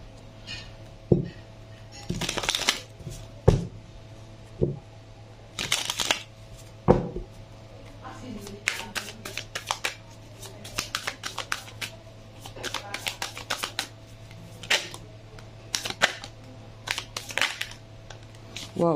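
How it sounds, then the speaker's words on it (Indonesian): Tarot cards are shuffled by hand in quick riffling bursts and soft slaps, close and crisp, repeated through the stretch under intermittent quiet speech. "Baru di shuffle, jatuh."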